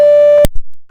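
A telephone busy signal after a call is hung up: a single steady electronic tone holds for a little under half a second, then cuts off abruptly with a short click, leaving near silence.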